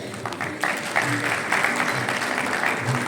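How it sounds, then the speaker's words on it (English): Applause from an audience greeting a government minister at a formal celebration of ITDC's 60th anniversary and the Ashok hotel's 70th, steady dense clapping for about three seconds at moderate distance. "May we have a big round of applause for Honorable Minister"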